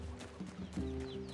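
Chicken in NieR Replicant giving a few soft, short clucks, fairly quiet against a low game backdrop.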